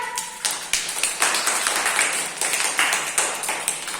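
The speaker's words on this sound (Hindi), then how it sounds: "शाबाश, तालियां बजाओ सब" Classroom of students clapping together for a classmate after a sink-or-float coin experiment, a steady patter of many hands, fairly close and moderately loud, with no talk over it.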